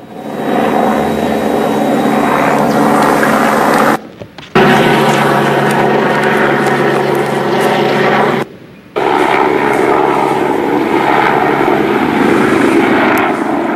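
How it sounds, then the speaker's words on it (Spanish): A police helicopter flies overhead during a street protest in Venezuela, its loud rotor and engine drone filling the air continuously apart from two brief cuts, with no clear speech. "Helicóptero policial sobrevolando y asesorando."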